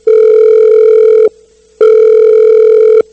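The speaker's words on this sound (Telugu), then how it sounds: "ఆ విషయాన్ని విని వెంటనే తన పై ఆఫీసర్ అయిన సిఐ సార్ కి ఫోన్ చేశాడు ఎస్ఐ" A steady electronic ringback tone sounds twice, each long buzzing tone lasting over a second with a short silent gap between, loud and clear.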